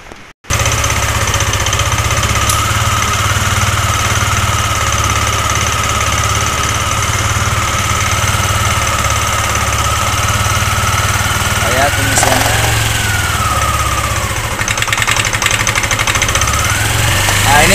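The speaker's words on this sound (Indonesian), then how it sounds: "Kita hidupin dulu motornya." A Yamaha Aerox 155 scooter engine cranks and starts, then settles into a loud, steady, close idle with a slight rise in revs near the end.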